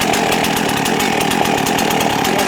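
A Husqvarna 51 chainsaw with a 16-inch bar runs at a steady, loud, close two-stroke rasp with a fast pulsing buzz that holds throughout.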